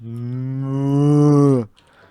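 A person imitating a cow, giving one long, loud, sustained moo-like call that swells slightly and then cuts off sharply, followed by quiet.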